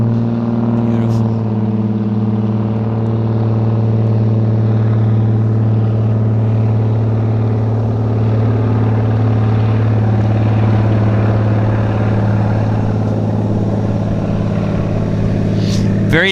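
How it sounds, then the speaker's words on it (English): A turbine-powered de Havilland Beaver floatplane takes off in Vancouver's downtown harbour, its loud propeller and engine drone steady and close throughout, holding a constant pitch with a slight swell near the end. "It's just quite remarkable how that turbo Beaver has such a short takeoff roll"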